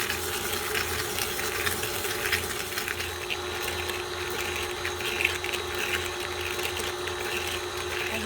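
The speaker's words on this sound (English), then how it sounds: "I'm going to start my mixer and allow it to mix until it's nice and creamy." An electric hand or stand mixer creaming sugar and butter for a Kerala-style plum cake, a steady whirring motor hum with a continuous buzzing whine, close and fairly loud without any talking.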